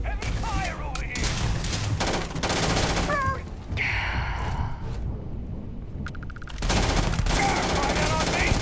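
Heavy automatic gunfire in the video game Starfield, sustained bursts rattling throughout, with brief pauses and shouted voices and groans mixed in.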